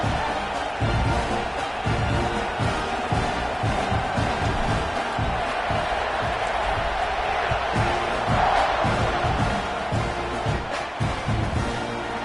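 Stadium crowd at a college football game with UCF on the field, a dense continuous roar of cheering and shouting that stays steady and loud throughout, with no distinct voices standing out.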